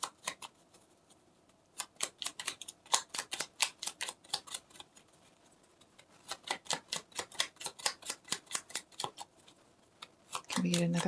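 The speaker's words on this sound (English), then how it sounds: "that's just me being a bad shuffler" Tarot cards are riffled and shuffled in two long, rapid runs of crisp flicking snaps, close and fairly quiet, ending with a brief burst of handling noise.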